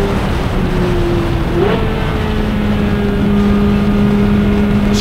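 A race car engine drones loud and steady at Road Atlanta, its pitch dipping briefly through a gear shift and then holding at a sustained high-revving whine, with no talking.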